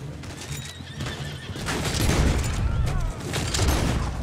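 Horse in the video game Red Dead Online neighing loudly and close, with clattering hooves and busy game ambience throughout and no talk.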